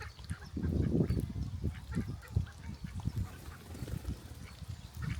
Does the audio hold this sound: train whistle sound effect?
no